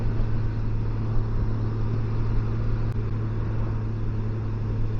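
A motorcycle sets off on a morning group ride, its engine a steady close drone with a constant low hum and broadband wind roar, unbroken for the whole stretch.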